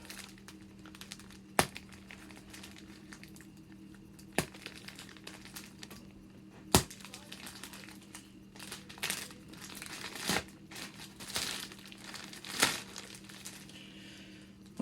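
Plastic packaging around a Klymit KSB double sleeping bag crinkles and rustles as it is unwrapped, with several sharp crackles and snaps spaced through a steady low background, close by.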